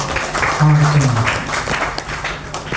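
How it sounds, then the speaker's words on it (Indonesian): Students and audience at a school reading-movement session clap under a speaker's voice, a moderate scattered applause mixed with talking and a brief tonal sound. "Boleh tepuk tangan yang meriah"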